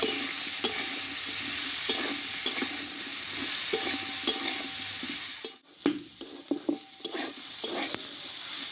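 Okra cooking with tomato and salt in a pan is stirred by hand, giving a steady sizzle broken by repeated scraping strokes and a few clinks of the spoon against the pan, with a brief lull midway.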